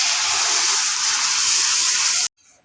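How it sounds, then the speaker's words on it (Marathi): Milk pours steadily into a kadhai as a continuous loud hissing splash for about two seconds, then stops abruptly, leaving a faint trailing sound. "आता आपण दूध घालून घेणार आहोत। त्यावर कढईत दूध घालू आपण।"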